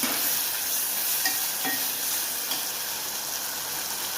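Ginger-garlic paste and spices fry in a pan for a mushroom curry, a steady close sizzle with a few soft stirring scrapes, no talking.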